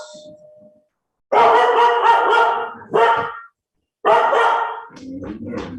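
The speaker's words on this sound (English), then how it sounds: "Got a dog in the house." A dog barks inside a house in two loud bursts of rapid barks separated by a short silence, the second trailing off into quieter yips and whines.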